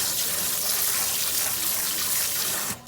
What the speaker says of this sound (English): So we're going to go ahead and rinse them.